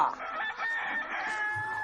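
A chicken in a henhouse gives one drawn-out, strained crowing call that holds at a fairly even level, close and clear, with a faint low thump near the end and no talking.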